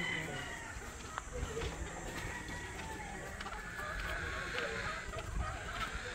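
Chickens and roosters cluck and call amid the murmur of a crowded cockfighting expo, faint and distant under steady background chatter from people nearby.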